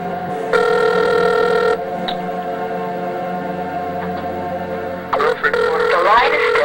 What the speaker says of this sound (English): The line is still ringing, but the person you called is not answering.